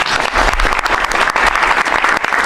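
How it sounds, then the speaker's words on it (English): Applause at a presidential cabinet meeting: a room full of people clapping loudly and continuously, close and sustained, with slight swells in intensity but no speech over it. "giving her a big round of applause."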